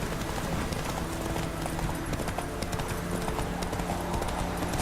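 Galloping horse hooves in a race in The Witcher 3, a steady drumming clip-clop held at an even level for the whole stretch, with no talk over it.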